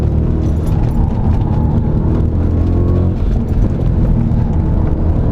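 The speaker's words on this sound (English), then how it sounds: "when you can rev the engine so high" A car engine revving high in second gear, held between roughly mid and upper revs, gives a loud, close, sustained drone that barely changes throughout.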